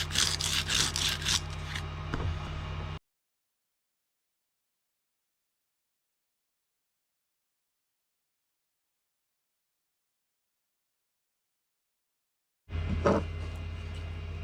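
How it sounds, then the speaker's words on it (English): Sandpaper scrubs against a 3D printed PLA plastic part in quick rasping strokes, close and rhythmic, broken by a long silent gap before the rubbing resumes. "So we're going to start with some sandpaper."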